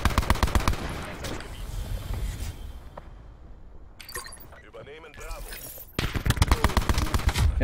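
The Titan gun firing in Call of Duty Black Ops 4 on the Icebreaker map, with loud rapid automatic bursts at the start and again at the end. In between is a quieter stretch of game sounds with breaking and shattering.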